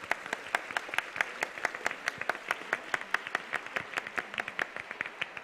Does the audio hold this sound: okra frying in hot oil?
no